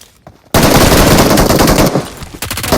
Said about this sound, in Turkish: Yapmayın arkadaşlar bu kadar saçma sıkmayın etrafa.